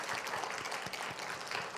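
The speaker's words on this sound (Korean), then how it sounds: "우리 박수하겠습니다" A church congregation applauds during a Sunday worship service, a soft, somewhat distant spatter of clapping hands with irregular individual claps standing out from the murmur.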